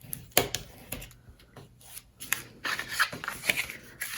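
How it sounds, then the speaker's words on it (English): Paper in a craft explosion album is burnished with quick, faint rubbing and scraping strokes, some sharper taps between them, close by and with no talking. "Just make sure it's aligning for you, and then you can burnish it."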